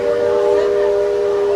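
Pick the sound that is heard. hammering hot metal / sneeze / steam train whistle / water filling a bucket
steam train whistle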